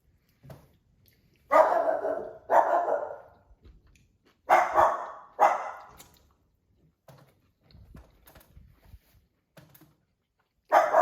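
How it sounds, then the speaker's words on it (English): A dog barks from indoors at people walking past the window, a few loud, paired woofs near the start and middle, then quieter scattered yips and sounds, with no talking. "not people walking by, so the dog barks."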